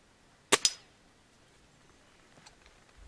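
A Gamo Whisper Fusion Elite .177 air rifle with a 3-9 power scope fires a single shot outdoors: a sharp, clean crack followed immediately by a second quick snap, then quiet background.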